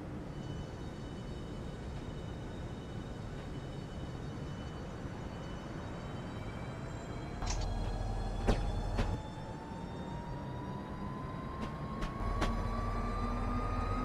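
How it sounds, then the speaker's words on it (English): Metro-North commuter train running from Grand Central toward Larchmont, heard from inside the car as a steady rumble with a slowly rising whine, and a few sharp clacks and thumps over rail joints near the end. "This is the train to Larchmont."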